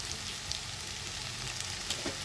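Spices sautéing in a pan while being stirred for a fenugreek-leaf and potato curry, giving a steady, soft broadband sizzle with faint scraping touches throughout, no voices.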